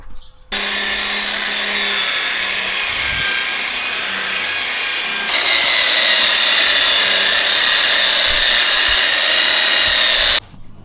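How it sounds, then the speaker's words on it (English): A rust and paint remover wheel on a power tool strips mill scale from steel beams, a loud, steady abrasive whine that grows harsher midway and cuts off abruptly at the end. "this has a rust and paint remover wheel on it, so yeah, it just gets rid of the mill scale and make it workable"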